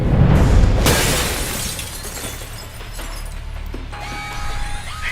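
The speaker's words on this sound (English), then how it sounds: "you might be able to find a way to break the glass" Glass window shattering in Alpha Protocol, a loud crashing break up close followed by scattering debris and a lingering low rumble with a faint tonal hum.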